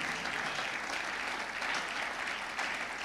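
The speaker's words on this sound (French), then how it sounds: "Même au milieu des serviteurs, on peut acclamer pour le Seigneur." A congregation at a church conference claps loudly and continuously in praise of the Lord, dense, even applause with no pauses.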